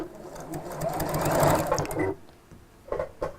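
A fast sewing machine stitches a seam in a quick, whirring burst that rises and then stops, followed by a couple of short mechanical clicks and brief runs, close and moderately loud.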